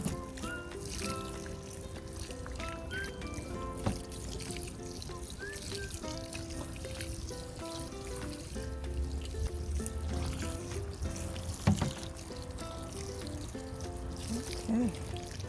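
Continuous close trickling and pouring of water soaking freshly planted red Creole onions in an elevated raised bed, a steady wash of splashing with a few brief louder bumps and no speech.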